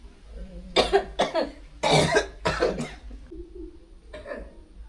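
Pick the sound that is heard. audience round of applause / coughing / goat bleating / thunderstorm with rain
coughing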